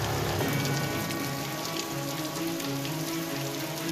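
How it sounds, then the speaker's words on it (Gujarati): Rain falls steadily on surfaces in Dahod, Gujarat, a dense, even patter that continues without pause and with no voices. "ક્યાંક ધોધમાર તો ક્યાંક ધીમી ધારે વરસાદનું આગમન થયું"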